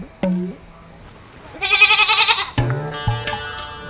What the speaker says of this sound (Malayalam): ഇനി മുതൽ ഈ ആടാണ് എൻ്റെ പെറ്റ്